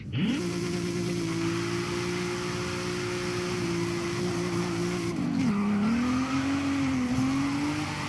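A Nissan 300ZX drifts in the Forza Horizon 5 racing game, its engine holding a loud sustained drone that dips and rises again near the end while the tyres squeal beneath it.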